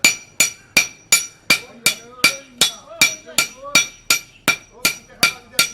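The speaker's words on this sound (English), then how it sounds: "In this, the iron is hammered into shape." Assam blacksmith hammering hot iron on an anvil, a loud ringing strike repeated about twice a second in a steady rhythm, each blow with a bright metallic ring and short decay, a faint voice under it.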